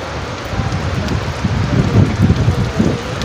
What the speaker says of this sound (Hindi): अभी अभी सेवाड़ी में अच्छी बारिश हो रही है।